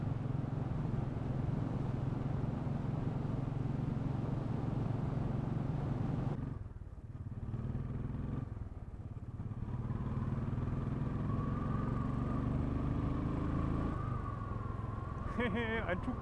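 A small Indian-built Calesino three-wheeler's engine idles and revs with a buzzy, uneven putter, close by, the pitch rising and falling over a continuous rumble.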